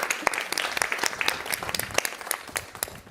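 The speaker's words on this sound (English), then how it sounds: "a round of applause for Ra." Audience applause at a small community talk and demo gathering: a steady patter of many hands clapping, fairly close and sustained for a few seconds, with faint voices mixed underneath.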